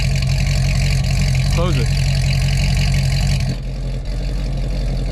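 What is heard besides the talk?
Chevrolet C6 Corvette Grand Sport engine idling with longtube headers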